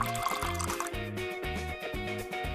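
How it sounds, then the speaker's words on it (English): Water poured into a cup holding ground coffee and sugar, a continuous close trickle with pulsing glugs over a few seconds, with faint background music. "Pour in some water."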